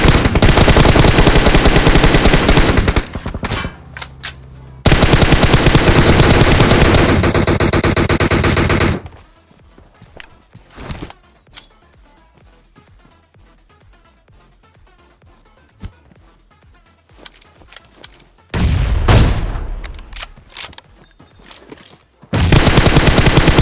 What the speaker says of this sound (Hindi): हमने ना इनकी गाड़ियों पे अंधी गोलियां चलाई थी